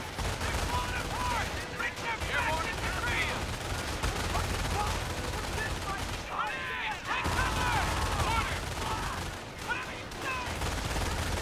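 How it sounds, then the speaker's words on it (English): A sustained Company of Heroes battle during the Normandy invasion at Vierville, with steady rattling gunfire layered under shouted voices and a constant wash of combat noise. "Just shoot them. Shoot all of them."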